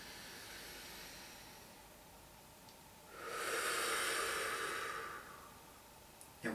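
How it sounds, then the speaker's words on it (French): A single slow, deep breath in a chest-breathing exercise: a soft, close, airy hiss that rises, holds for about two seconds and fades, set against quiet room tone with a brief click at the end. "Profitez-en pour sentir aussi que votre respiration est bien thoracique."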